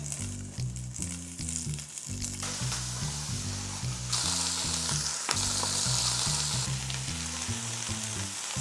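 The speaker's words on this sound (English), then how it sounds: "I'm gonna add a little more oil, get the rest of the greens in" Greens fry in hot oil in a pan, a loud, continuous sizzle with bursts of stirring as more leaves hit the oil; no talking.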